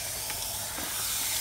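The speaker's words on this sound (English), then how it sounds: "and then you go, spraying" Steady hiss of a handheld sprayer misting water over plants outdoors at a wildlife reserve, a continuous close spray that holds level throughout with no talk.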